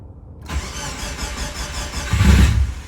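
A Subaru Forester STI with a new ECU, immobilizer and ignition cranks and catches after a moment of quiet, settling into a close, steady idle before swelling louder near the end.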